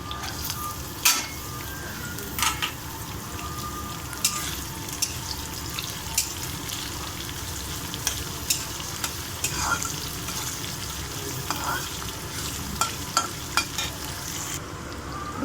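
Onions frying and being stirred in a pan for sabudana khichdi, a steady close sizzle with scattered clinks and scrapes of the spoon throughout, no talk.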